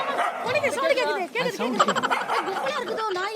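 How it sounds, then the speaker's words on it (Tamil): Several dogs bark and yip close by in a rapid, overlapping flurry, mixed with a person talking throughout. "நாலு நாய் சவுண்ட் கேக்குது"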